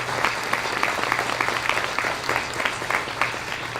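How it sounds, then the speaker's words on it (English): Applause from an audience at an industrial procurement networking breakfast, a steady wash of many hands clapping for the organizing committee, dense and continuous throughout. "Let's give this committee a round of applause"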